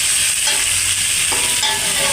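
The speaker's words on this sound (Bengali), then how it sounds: "ওলটা এবার ভাজা ভাজা হবে" Elephant foot yam sizzles steadily in a hot pan as it fries, a loud continuous hiss with faint stirring.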